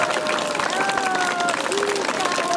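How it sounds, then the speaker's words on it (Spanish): Applause rings out at a school flag-raising ceremony in Peru, honoring a retiring primary teacher; a crowd claps steadily and densely throughout, with faint voices beneath. "a quien recibimos con fuertes palmas"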